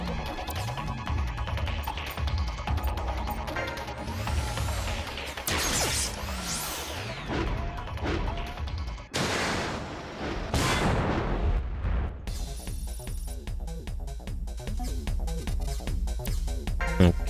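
Missile attacks from mecha units in Front Mission 5 produce a loud, dense run of booming launches and crashing impacts, with whooshing streaks and rumbling explosions piling over a steady in-game hum.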